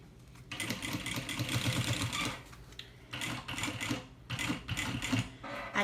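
Sewing machine stitching the lining of a small thermal bag, with short backstitch, running in several bursts of rapid mechanical whirring separated by brief pauses, close by.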